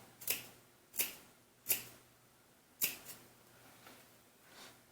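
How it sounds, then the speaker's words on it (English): Scissors snip the corners of fabric for a doll hair bun maker, four or five crisp, close clicks spaced roughly a second apart in an otherwise quiet room. "So take your scissors and you're going to just clip the corners."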